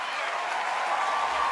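An awards audience applauding Patricia Arquette's speech on equal pay, a brief, steady roar of clapping from a large crowd with no pauses.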